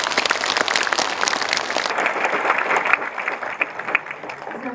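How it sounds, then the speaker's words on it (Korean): An audience at an academy lecture hall applauds warmly, a dense burst of clapping that swells and then gradually thins out. "뜨거운 박수 부탁드립니다."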